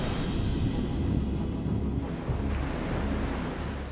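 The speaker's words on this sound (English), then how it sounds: "Caught between the heavy surf and a powerful undertow, Mike Fay is exhausted." Heavy ocean surf in a Pacific surf zone, a continuous broad roar of breaking waves with wind buffeting the microphone and a brief surge partway through.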